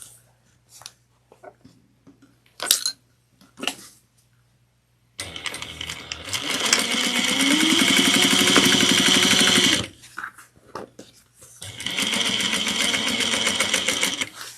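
A sewing machine stitches a tote bag seam at a half-inch allowance, running in two long, steady whirring bursts after a few short clicks and taps, with a quiet gap in between.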